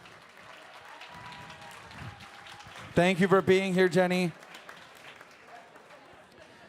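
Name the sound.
audience applause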